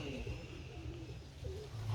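Pigeons or doves coo softly in low, rolling calls, a few repeated phrases over a quiet background hum.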